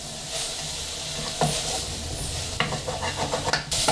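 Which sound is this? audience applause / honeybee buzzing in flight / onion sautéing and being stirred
onion sautéing and being stirred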